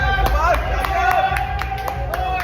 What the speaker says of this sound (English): Big round of applause for Abhishek भैया।